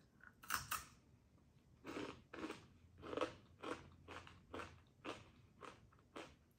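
Crunchy sea salted caramel Beaver Nuggets from Buc-ee's being bitten and chewed up close, with about eight sharp, crackly crunches at a steady rhythm and no talking.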